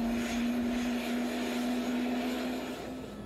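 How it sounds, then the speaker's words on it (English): A helicopter in flight over the New Zealand mountains near Queenstown, its engine a steady droning hum with a constant whine, heard from inside the cabin at moderate level with no talking. "we all jump in a helicopter and fly back to Queenstown"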